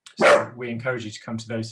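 A dog barks once, close and sharp, near the start of an online community event, then a person keeps talking over the room.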